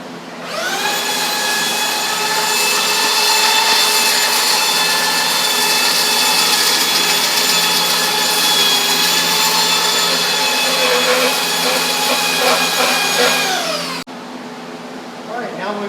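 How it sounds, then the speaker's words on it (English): A continuous loud power-tool whine from sanding a boat's kickback surface runs steadily for about fourteen seconds, then cuts off abruptly, leaving a quiet room tone. "time to sand the kickback"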